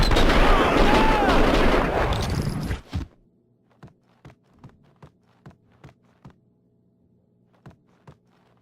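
Gunfire in the shooting game Max Payne 2, where a dense roar of shots and noise suddenly cuts off, followed by a string of about ten sharp, evenly spaced single shots or impacts echoing in a quieter room.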